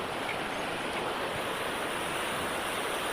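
River water rushes steadily near a jungle waterfall in Camarines Norte, a dense, constant roar of flowing water with no voices.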